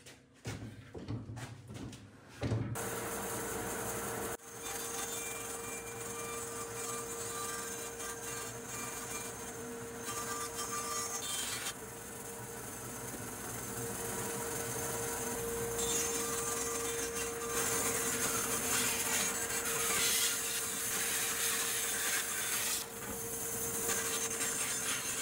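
A bandsaw cuts a long wooden beam into an octagon for a silo renovation, running with a steady whine and rasping cut noise for over twenty seconds after a few knocks at the start, with no talk.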